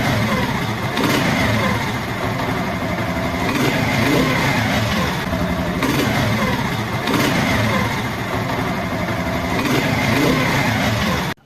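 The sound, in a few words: motorcycle engine being revved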